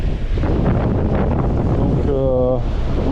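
Strong wind buffets the microphone on a wild Mediterranean beach during lure fishing for sea bass, a loud continuous rumbling roar with a voice talking over it.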